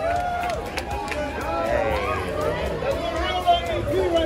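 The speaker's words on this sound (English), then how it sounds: "Here is the crowd at the rope drop to get into Crack Axle Canyon." A theme park crowd surges at rope drop for Crack Axle Canyon, a steady hubbub of chatter and running footsteps with scattered shouts, nearby voices talking throughout.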